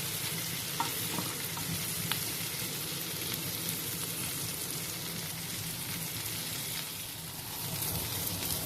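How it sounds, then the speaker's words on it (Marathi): Potatoes grill in a hot pan until golden, giving a steady, close, continuous sizzle and crackle with no voices. "चार ते पाच मिनिटे हे बटाटे चांगले ग्रिल करून घ्यायचे आहेत"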